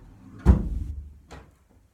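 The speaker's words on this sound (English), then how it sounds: "if I'm going to go sideways and shut this door" A door is pushed shut indoors with one solid, low thump, followed by a lighter knock or latch click a moment later, then quiet.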